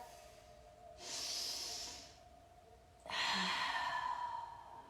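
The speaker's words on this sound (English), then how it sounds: "Taking 2 beautiful breaths here." Two slow, deep breaths during a gentle yoga session, a soft airy inhale followed by a longer, fuller exhale, close to the microphone in an otherwise quiet room with no talking.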